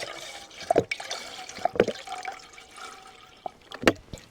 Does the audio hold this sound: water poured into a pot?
yes